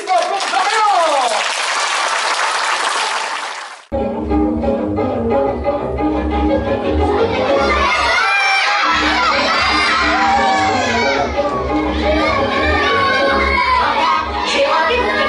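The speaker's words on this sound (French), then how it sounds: "on va te demander un tonnerre d'applaudissements pour Dorian" A children's show audience bursts into loud applause and excited shouting and cheering from many young voices, a dense, sustained roar after a brief pause, close and energetic throughout.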